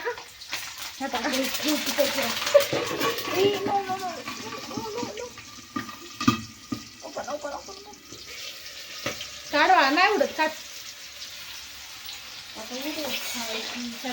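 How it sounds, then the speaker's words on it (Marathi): Green chilies fry in hot oil for Mumbai-style vada pav, a steady sizzle and crackle with occasional spits and stirring, sitting beneath a voice that talks over most of it. "आता आपण घेणार आहे मिरची तळून आणि मिरची तळताना खूप काळजी घ्यायचं आहे की मा मिरच्या फुटतात आणि उडतात सुद्धा"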